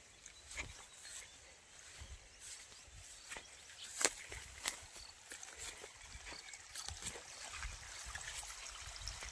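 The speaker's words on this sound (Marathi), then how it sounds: "पाणी आलेलं आहे" Uneven splashing and trickling water runs continuously from a motor-pumped pipe, with scattered louder splatters, fairly close and moderately loud.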